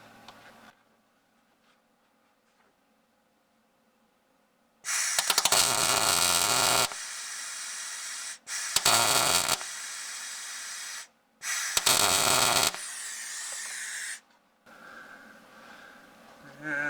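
Welding bead laid onto a broken bolt on an LS tractor, a loud crackling, hissing arc heard in several bursts of one to three seconds split by short silences, with quiet background between them.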